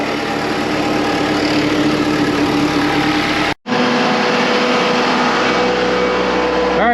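A diesel engine on a farm runs at a steady idle, loud and close. The drone is continuous apart from a brief cut near the middle, and no one speaks.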